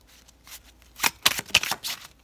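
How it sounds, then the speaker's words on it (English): Tarot cards being shuffled by hand, a few quick soft riffling bursts close by, brief and quiet. "During my pre-shuffle, this card and this came out."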